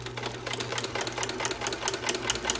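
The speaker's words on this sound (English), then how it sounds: "I got the sewing machine cocked at a 45-degree angle" A sewing machine tilted at a 45-degree angle stitches saltwater fishing lure skirts, a fast steady mechanical chatter with rapid even needle strikes running throughout, close and loud with no talking.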